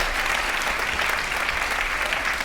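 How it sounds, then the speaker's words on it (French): Audience at a live stage show applauds, dense, steady clapping from a sizeable crowd filling the room, continuous throughout with no breaks, some faint voices mixed in. "on peut les applaudir, s'il vous plaît."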